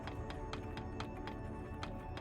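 Horse hooves clopping in the video game Digimon Story Time Stranger, a steady run of evenly spaced taps over a dense game music bed, moderately loud and continuous.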